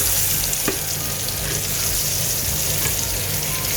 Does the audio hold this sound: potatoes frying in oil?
yes